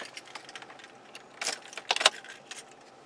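Car keys jingle in the ignition of a 1995 Chevrolet Monte Carlo LS, a few short metallic clinks and rattles close by, the loudest cluster near the end, with no talking.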